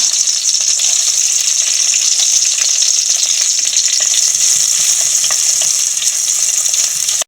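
Green chilli and ginger sizzle steadily in a pan of hot oil for a pickle, a dense, continuous frying hiss with faint stirring scrapes and no voices.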